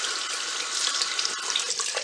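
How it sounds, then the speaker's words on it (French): Tap water runs steadily into a sink while a powder purifying face mask is rinsed off, a close, bright, continuous splashing stream. "je vais rincer"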